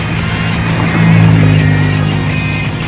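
Cars speeding past on a road, heard during a mountain bike trail ride as a loud, steady engine and tire roar that swells in the middle and stays close, with no talk.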